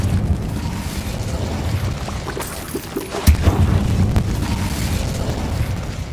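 An Incendio fire spell in Hogwarts Legacy bursts with a sharp boom and a whooshing flare, a single loud blast near the middle followed by a crackling, rumbling tail over steady game ambience.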